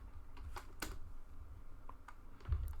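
Quick bursts of typing on a computer keyboard, a handful of close, crisp key clicks spread irregularly over a couple of seconds in a quiet room.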